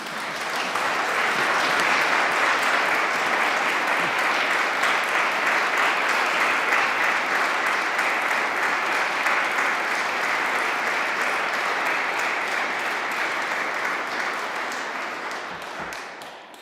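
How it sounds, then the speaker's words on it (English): A workshop audience applauds its speakers, a sustained wash of clapping that swells quickly, holds steady for a long stretch, then tapers away at the end. "if you'd like to applaud our speakers"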